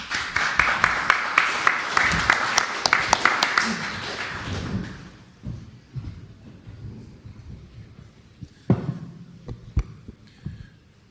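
An audience claps for a panel speaker at a mining investment conference, with sharp applause for about five seconds that then trails off into scattered claps, shuffling and room noise.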